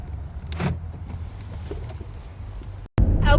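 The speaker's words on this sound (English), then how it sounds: "We're driving again and the light is off currently." A car drives along the road with a steady low engine and road rumble. Brief clicks and rattles sit on top, then a short cutout and a louder burst at the end, with no talking.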